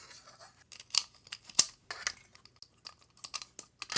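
Jewelry wire being snipped into pieces for a beaded bracelet, a few sharp close clicks of the cutters among soft handling noises, with no talking.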